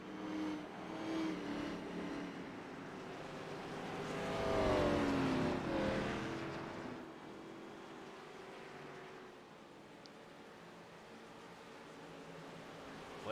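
Race cars circle WWT Speedway at caution pace in a racing video game, a faint engine drone that swells as a pack passes midway and then eases back to a low, even hum, with no talking.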